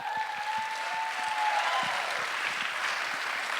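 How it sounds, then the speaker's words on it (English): An audience at a live Ignite Denver event applauds steadily for several seconds, a dense even wash of clapping without talk. "give yourselves a big round of applause"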